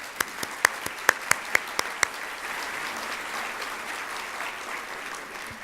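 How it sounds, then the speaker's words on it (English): Applause for Karen at the #CaliforniaForAll opening ceremony, opening with a run of loud, evenly spaced claps close by over a wash of audience clapping that continues at a softer, steady level after two seconds. "let's give another round of applause for Karen"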